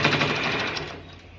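A sewing machine stitches fabric for a reversible tote bag, a steady fast mechanical whirr that slowly fades and thins out toward the end.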